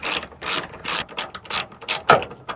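Ratchet wrench clicking rapidly in short bursts while backing out the top bolts of a car trunk lid, about eight sharp, close, loud ratcheting strokes with brief gaps between them.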